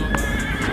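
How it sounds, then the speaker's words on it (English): A horse whinnies out on a riding trail, a short high neigh with a couple of bright bursts over a steady low hum, fairly close and with no talking. "我听前面有人骑马。"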